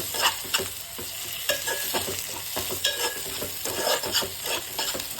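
Ginger paste is stirred through hot oil, a continuous frying sizzle broken by repeated scraping strokes of a utensil at a moderate level, with no talking.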